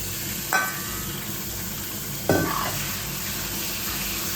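Boneless chicken marinated in lemon and salt drops into a hot pan with two sharp bursts of sizzle, then a steady frying hiss continues underneath.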